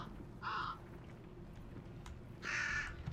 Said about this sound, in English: these crows make, like, a noise as they're, like, skittering on the ground